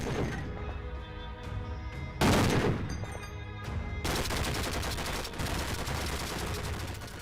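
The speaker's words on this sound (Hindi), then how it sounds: "अफगानिस्तान का हेलबंद प्रांत गोलियों, धमाकों, तोपों और लड़ाकू विमानों की गड़गड़ाहट से गूंज रहा है" Gunfire and explosions from fighting between the Afghan army and Taliban in Helmand province: continuous rattling bursts of shots with a loud heavy blast in the middle, dense and sustained throughout.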